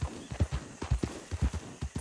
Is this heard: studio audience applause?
no